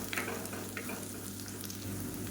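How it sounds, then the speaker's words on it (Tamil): Chili powder sautéing in hot oil for a black chickpea masala kulambu, a steady close sizzle and frying hiss running throughout without talk. "இது வந்து எண்ணெயில் வதக்கி விட்டுக்கலாம்"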